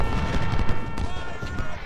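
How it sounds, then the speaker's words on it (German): Musket volleys in the Civil War strategy game Ultimate General: Civil War, a dense, continuous rumble of overlapping gunfire and battle noise, loud and close throughout. "Nur einmal schießen und abhauen,"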